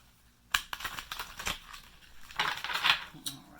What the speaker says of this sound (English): I do want to give it one more shuffle.